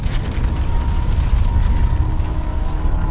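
Deep, sustained rumbling blast depicting a star's nova explosion, a loud continuous roar with heavy low-end boom filling the whole stretch.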